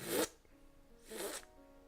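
A voice imitates a zipper, making two quick raspy zips about a second apart, fairly close and moderately loud, with nothing else around them.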